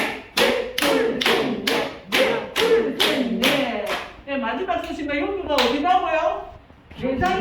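Rhythmic group hand clapping in a steady beat of sharp, loud claps, then shifting into looser clapping mixed with voices chanting along.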